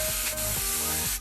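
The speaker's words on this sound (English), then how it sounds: "make your pan very hot and then start grilling" Thin marinated steaks seasoned with black pepper hitting a very hot pan, giving a loud, close, continuous hissing sizzle over a brief moment.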